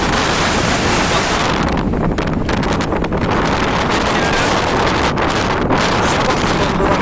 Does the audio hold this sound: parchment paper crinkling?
no